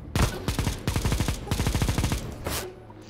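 Negev machine gun in CS:GO firing several long, rapid automatic bursts with short pauses between them, loud and close, with no talking.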